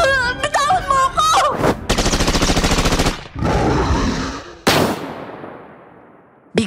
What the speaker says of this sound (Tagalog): Biglang umalingaw-ngaw ang putok ng baril noon sa paligid.